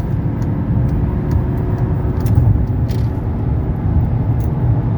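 A 1995 Mercedes E300 cruising on a highway while merging into the fast lane, heard from inside as a loud, steady road and engine rumble with a few faint clicks over it.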